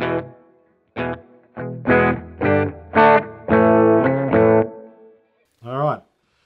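Electric guitar through a Coolmusic multiple distortion pedal, with reverb from an Iridium on a Fender setting with a 1x12 cab, played in short bursts of chords and notes with heavy distortion and a reverb tail, separated by brief pauses.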